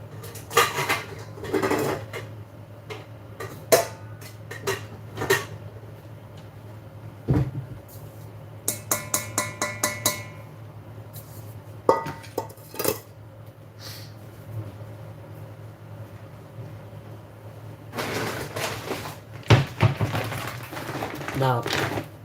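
Kitchen clatter while rice is started: cupboard doors open and shut, and pots and dishes clank and rattle in scattered bursts. A voice talks between the noises.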